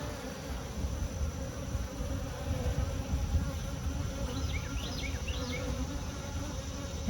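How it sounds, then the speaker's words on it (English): Honey bees buzzing around a lightly smoked open hive, a dense steady drone with occasional individual bees passing closer, no talking. "you see the bees clustering down towards one end"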